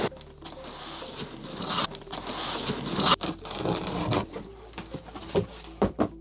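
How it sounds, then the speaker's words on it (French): Unboxing a Creality Falcon 2 laser cutter brings close, busy rustling, scraping and rubbing of packaging and cardboard, with irregular thumps and short tearing bursts and no talking. "Allez, on va le déballer ensemble."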